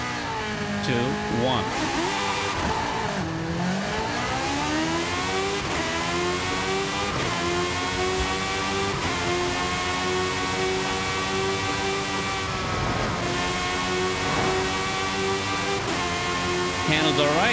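A very quick Bad to the Blade car from Forza Horizon 5, a toy-like Hot Wheels machine, revs and accelerates continuously, its engine pitch climbing and shifting through gears, loud and steady with a brief word spoken over it.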